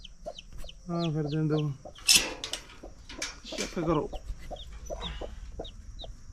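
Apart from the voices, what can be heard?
hen with chicks clucking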